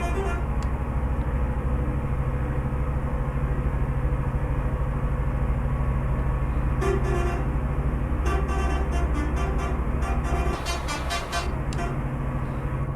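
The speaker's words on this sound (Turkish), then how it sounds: "Mehter marşı gibi kornası var bu ne ya?" A Magirus M2000 truck in Euro Truck Simulator 2 sounds its horn in a melodic run of repeated toots, loud and close over the steady engine drone.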